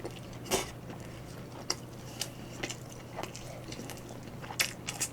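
Soft, close crunchy bites into BHC Marakan marinated fried chicken, several sharp crackles spread over a few seconds against a quiet indoor background with a low steady hum.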